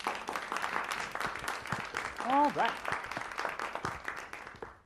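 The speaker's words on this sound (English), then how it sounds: "Let's give them a round of applause" Audience applause after a short scene at a Minnesota Fringe theater performance, moderate clapping under a speaker's voice, with a brief tonal vocal sweep in the middle.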